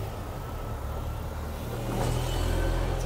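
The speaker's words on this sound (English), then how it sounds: "Sorry for the noise, it's going past a load of lorries." A steady low rumble of heavy traffic, with a lorry roaring past nearby and growing louder toward the end.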